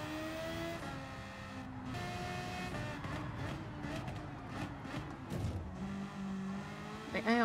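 A Suzuki VGT GR.3 race car in Gran Turismo laps Suzuka, its engine note climbing and dropping through gear changes, with shifting revs and a brief tire squeal near the end.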